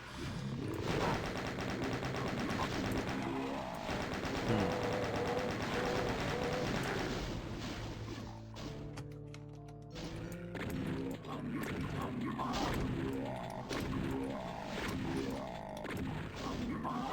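Rocket and gunfire in the video game Evil Beckons: repeated loud blasts and crashing impacts overlaid on dense game music, with a brief lull midway before the barrage resumes.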